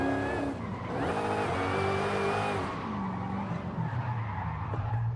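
A Dodge SRT Hellcat in Forza Horizon 5 skids with a loud sustained tire squeal over its engine note, which fades and drops into a lower rumble as the slide ends.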